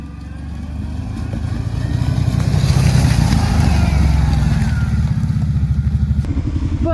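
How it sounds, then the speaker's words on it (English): Kawasaki Brute Force 650 ATV rolling downhill on a trail under engine braking, a loud close rumble with a pulsing, rattling engine note that swells and then holds steady, with faint clatter from the ride. "Let's test the engine braking and see how good the engine braking is."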